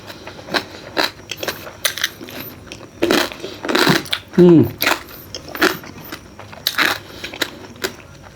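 Crunchy rice crackers being bitten and chewed alongside spicy Thai rice-noodle salad, with a series of short, close crunches spread across the clip and a few louder bites in the middle.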